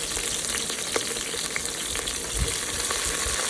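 Green chillies and onion pieces fry in hot ghee with biryani spices, making a loud, dense, continuous sizzle close up, with a few scrapes of stirring.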